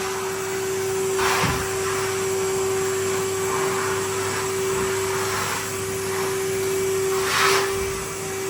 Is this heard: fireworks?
no